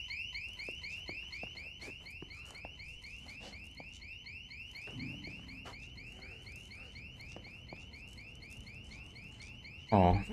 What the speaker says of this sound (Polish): ten alarm przyciągnie ich tutaj.